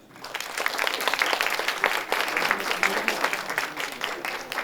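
Audience at a university talk on artificial intelligence applauds to welcome a guest speaker, a swelling burst of clapping that stays steady and fairly close throughout.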